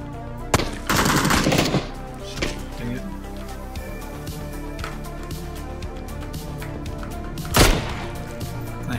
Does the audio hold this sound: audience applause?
no